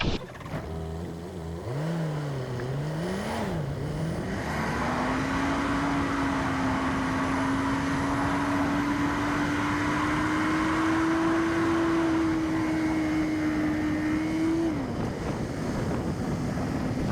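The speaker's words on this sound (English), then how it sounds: "Let's go for a drive up 40 Bends Hillclimb and see what it was like." A car climbs the 40 Bends Hillclimb road in the Blue Mountains, its engine drone rising and falling through the early turns, then holding a steady, slowly climbing note under constant wind and road rush.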